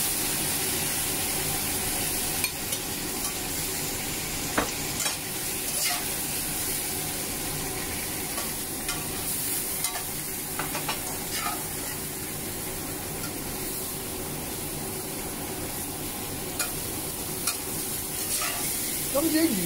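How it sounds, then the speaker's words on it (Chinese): Rehydrated squid and radish leaves stir-fry in a wok over high heat. A constant hissing sizzle carries intermittent scraping stirs, close and moderately loud. "我而家先咧係爆香咗啲水油同埋蘿蔔葉先"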